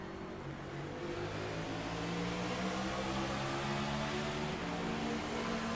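A race car engine screams to high revs after a missed shift into second gear, heard from an onboard cockpit view; a loud, steady multi-harmonic howl rising slightly and holding throughout, with no talk.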